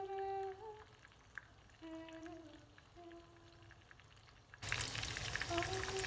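Onions fry slowly in a pan, giving a faint sizzle under soft background tones until a louder, fuller hiss rises near the end.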